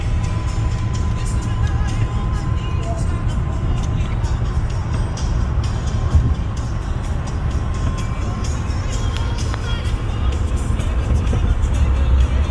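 A 1995 Mercury Cougar V8 cruising at highway speed, heard from inside as a loud, steady low engine drone mixed with road and wind rush throughout.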